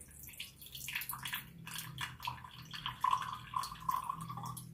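Vinegar, about a quarter cup, is poured while making a roasted red pepper salad appetizer, giving a trickling, dripping liquid sound with a few clear drip tones, close and moderately loud, with no voices.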